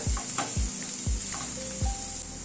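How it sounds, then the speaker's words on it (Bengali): Chopper-minced onion and garlic stirred and fried together in a pan for fish chops: an even sizzle broken by four low, regular thumps and scrapes of the spatula, close and without talk. "রসুনটাকে দিয়ে আবারও মিনিট খানেক একটু নাড়াচাড়া করে নিলাম।"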